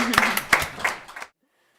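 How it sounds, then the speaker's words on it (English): A few claps from an audience at a professional talk on social effectiveness therapy for children, sparse and fairly close, ending abruptly in silence after about a second. "how about a nice round of applause for our audience participants?"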